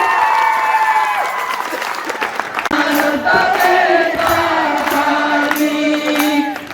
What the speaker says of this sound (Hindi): तालियों के साथ बजरंगी उनका स्वागत है